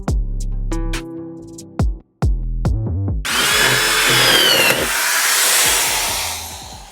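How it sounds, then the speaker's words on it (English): A power drill starts and stops in short bursts, then runs steadily at a high whine as it drills out metal bolts on a BMW E36 328i, loud and close. "I'm going to drill them out."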